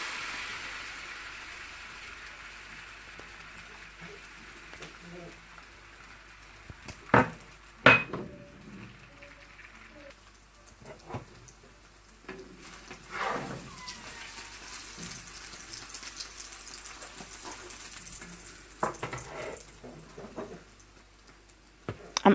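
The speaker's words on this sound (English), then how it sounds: "I'm now frying my egg" An egg fries in oil in a pan while prawn fried rice is being made, with a soft sizzling hiss under scattered sharp clinks and clanks of cookware and utensils, loudest around the middle.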